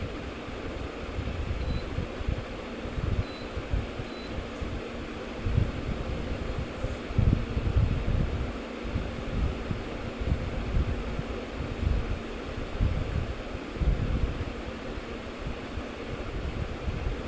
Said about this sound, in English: Now we will see what happens when the air conditioner is switched on.